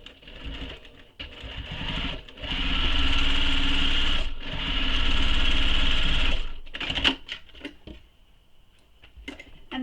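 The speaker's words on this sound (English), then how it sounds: "Now I'm going to top stitch this top edge" A sewing machine topstitches the top edge of a small messenger bag, humming steadily in two long runs separated by a brief stop, then trailing off into quieter handling noises.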